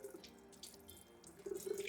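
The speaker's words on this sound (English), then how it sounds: "Sorry if this water's loud." Water running from a kitchen tap into a sink, a faint, steady hiss with small splashing bursts that grow a little louder toward the end, no talk.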